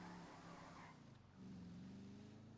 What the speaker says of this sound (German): Endlich fährt mal was, mein Mann. Auto.